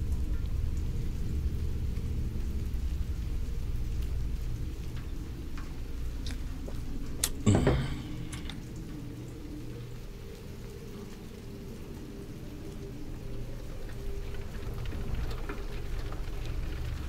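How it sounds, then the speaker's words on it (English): Steady rain falls in the video game Silent Hill 2, a constant dense patter with a low rumble throughout and one sharp brief crack partway through. "Now it's rainy and dark."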